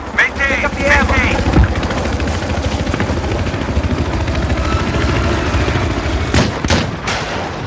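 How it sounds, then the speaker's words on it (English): A helicopter drones loudly and steadily through a tank-heavy vehicular combat video game, mixed with bursts of gunfire and artillery. "Another chopper over there, David."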